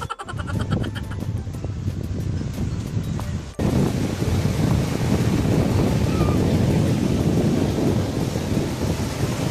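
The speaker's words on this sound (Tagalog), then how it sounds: "ang lakas ng alon guys" Strong sea waves and gusting wind at San Fabian beach in Pangasinan, a loud, continuous roar of surf with wind buffeting the microphone and no break throughout.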